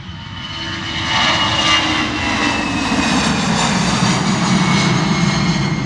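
An EasyJet Airbus A320 jet roars steadily on a foggy morning at London Luton Airport, a loud continuous broadband engine noise that swells slightly after the start and holds, with no talk.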